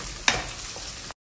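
Onions sizzle and fry in a pan with a brief stir or scrape, a steady close hiss lasting about a second.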